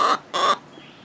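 Two loud, harsh crowing calls from a hen in quick succession, close by, each about a fifth of a second long.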